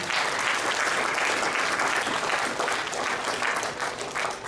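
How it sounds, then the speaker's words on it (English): Steady applause from an awards ceremony audience honouring immigrants, a dense, continuous wash of many hands clapping at moderate distance with no voices on top. "So if I can get a round of applause for the Canadian Immigrant team."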